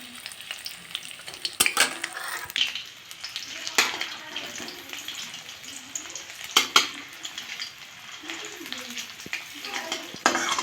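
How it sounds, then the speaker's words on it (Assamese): Cauliflower pakoras fry in oil, a crackling sizzle broken by bursts of stirring and turning in the pan, fairly close and moderately loud, with a voice talking faintly at times. "এতিয়া এই সাইডত অকমান ভাজি ল'ম"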